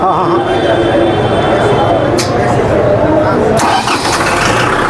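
A tractor's heavy diesel engine starts and settles into a loud, rumbling idle close by, with someone talking over it.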